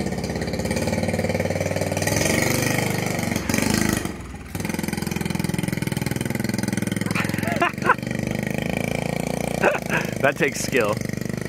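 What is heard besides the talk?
1969 Honda Mini Trail engine idling after mixture adjustment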